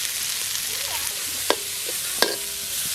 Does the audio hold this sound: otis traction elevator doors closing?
no